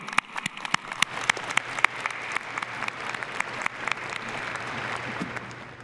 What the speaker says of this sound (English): let's give a round of applause again to that special person who helped us graduate